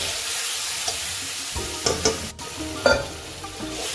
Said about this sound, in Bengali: গরম তেলে 5 ফোড়ন আর লঙ্কা ফোড়ন দিয়ে টমেটো চাটনিটা